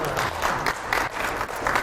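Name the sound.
congregation applause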